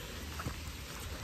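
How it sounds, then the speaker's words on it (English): Heavy rain pouring down, a dense steady hiss of drops hitting surfaces, loud and unbroken for a short moment with no talk. "But it's really raining."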